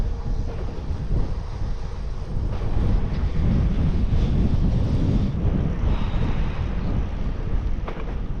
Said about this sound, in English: the wind is changing and it's going to be sort of diagonally pointing towards me as a sort of headwind